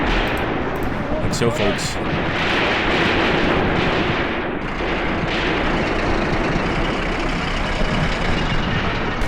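Artillery fire pounds continuously in Graviteam Tactics: Mius Front, a dense rumbling barrage of distant booms shelling a city. Someone talks briefly over it.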